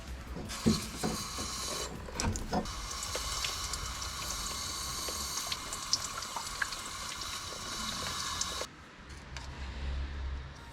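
A water pump whirs steadily at close range while its interior is cleaned, with water splashing and rushing over a constant mechanical hum. The motor cuts off near the end, leaving a lower rumble.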